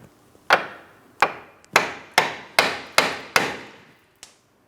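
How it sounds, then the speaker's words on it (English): Hammer strikes on a steering knuckle at the ball joint stud of a 2004-2008 Pontiac Grand Prix, struck to shake it loose: seven sharp metallic blows, close and loud, spaced about half a second apart, with a lighter final tap. "Now with my hammer, I'm going to be tapping on my steering knuckle where my ball joint stud is."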